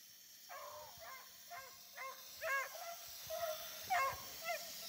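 Several small dogs yap in short, spaced bursts, a few sharper barks standing out, heard fairly faintly against a quiet background.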